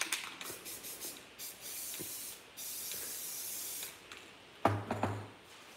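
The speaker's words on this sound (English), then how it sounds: "I'm gonna use some clear coat to just loosen the paint up a bit" An aerosol can spraying clear coat onto spray paint art gives a series of soft hissing bursts, short and longer, with a louder rattling spurt near the end and no voices.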